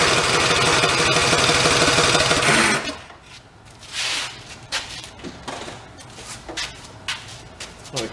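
The small engine of a 1962 Shriners go kart runs loud and close with a steady rattling drone, then cuts out abruptly and sputters in uneven, intermittent bursts.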